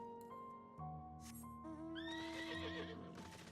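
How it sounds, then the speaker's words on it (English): A horse in Final Fantasy XIV Endwalker gives a loud, quavering whinny, with hoof clip-clops close by. Game music plays throughout. "Horse."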